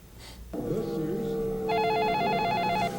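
A telephone rings in a residence, a loud electronic warbling trill that starts partway through over a low steady hum and continues to the end.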